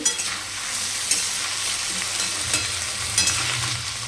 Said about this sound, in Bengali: আলুটাকে তেলে ভাজা মানে ভেজে নেওয়া হচ্ছে